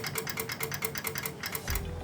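Mechanical switch on a Pulsfog K-10-SP fogging machine clicks in a quick, even series of close, crisp ticks, ending with a short lower thump.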